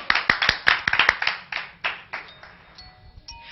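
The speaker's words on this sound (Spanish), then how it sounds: "reciban con un fuerte aplauso a Winifred, la diosa" A studio audience on a Spanish-language health talk show claps for an arriving guest, a burst of sharp, close handclaps that thins out into a few scattered claps over several seconds.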